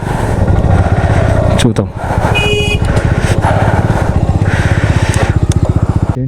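Motorcycle engines running at a high-altitude camping site, a loud steady revving rumble close by with a brief dip midway, while a person speaks over it.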